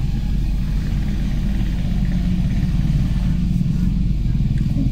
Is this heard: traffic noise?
yes